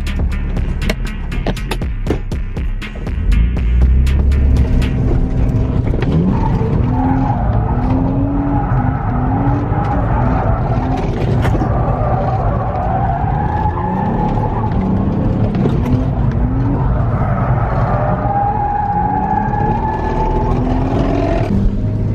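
BMW E36 revving hard under acceleration on a test run, engine loud and close throughout, with tires squealing and skidding over long stretches.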